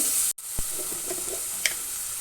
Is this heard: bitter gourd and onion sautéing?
yes